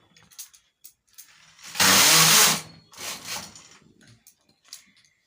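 The carriage of a sweater knitting machine is run across the needle bed in one pass, a loud rasping mechanical slide lasting under a second, with brief softer clicks and handling noises around it.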